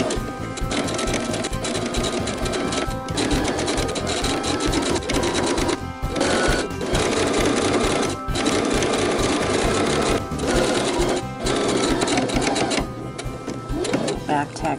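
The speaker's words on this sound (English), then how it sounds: "go ahead and sew right on that edge" A sewing machine stitches along the edge of a tote bag in long, loud, close runs of rapid rhythmic chatter, pausing briefly between stretches, with talking heard over it.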